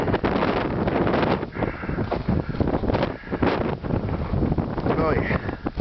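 Strong wind during an Icelandic snow storm beside a house roars continuously and loudly right at the microphone, buffeting in uneven gusts throughout.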